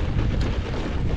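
Strong headwind buffeting the microphone outdoors on a warm day in Utah, a continuous loud low rumble with steady gusty roar and no talking.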